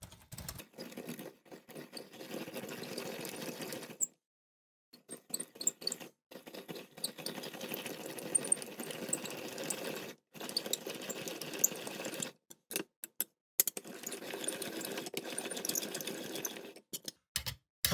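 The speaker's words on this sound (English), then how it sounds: "now I'm going to grind it for the second time" A hand-cranked manual meat grinder working through meat a second time, a close rhythmic mechanical whirring and grinding in stretches broken by brief pauses, no talking.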